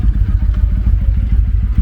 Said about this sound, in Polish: Taki oto motor, nie? Chodzi dobrze, nie?